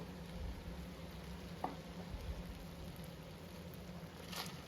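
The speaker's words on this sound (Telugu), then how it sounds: "టమాటోస్ కూడా చాలా బాగా ఆయిల్లో మగ్గాలన్నమాట" Tomatoes and green peas softening in oil in a pan: a faint, even sizzle and soft bubbling heard close, with one small knock partway through and no voices.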